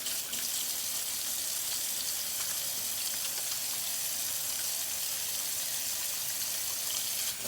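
Tap water runs steadily into a kitchen sink while a container is rinsed out, a continuous hissing splash at moderate distance with no talking.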